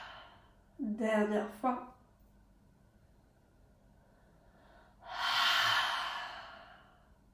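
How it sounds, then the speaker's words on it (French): Slow, deep breath drawn in through the nose and let out through the mouth, a close, airy rush lasting a couple of seconds after a brief spoken instruction, in a quiet room during a guided stretching session. "Longue inspiration par le nez. Expirez par la bouche."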